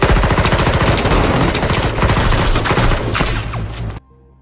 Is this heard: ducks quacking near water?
no